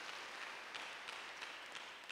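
Church congregation applauding during a sermon, a dense, fairly distant wash of many hands clapping with a steady pulse of rhythmic accents, continuous for the whole stretch and without clear speech.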